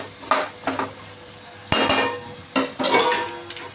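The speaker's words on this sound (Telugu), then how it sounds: "ఇప్పుడు అల్లం వెల్లుల్లి పేస్ట్ వేస్తున్నా ఫ్రెండ్స్" Ginger garlic paste stirred into vegetables and onions in a pan for veg biryani, with a few scraping stirs and clinks of the spoon against the pan, under a faint sizzle, close by and moderately loud.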